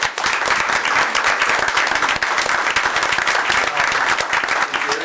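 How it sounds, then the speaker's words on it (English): Audience applause at a school board meeting, steady dense clapping from a room full of people that fills the whole stretch without pause. "Let's give a round of applause for"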